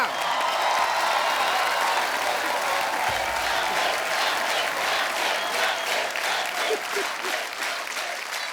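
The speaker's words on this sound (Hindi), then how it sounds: "रणबीर के लिए जोरदार तालियां।" Loud, sustained studio audience applause greets the arrival of Ranbir Kapoor on a Hindi comedy talk show, a dense wash of clapping filling the whole stretch with scattered cheers underneath.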